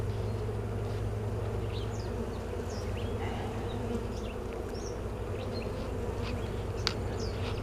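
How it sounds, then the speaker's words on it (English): A dense, steady buzz of many honey bees flying close around an open hive during an inspection drones continuously, low and loud, with no talk heard. "I have an abundance of bees flying around me right now"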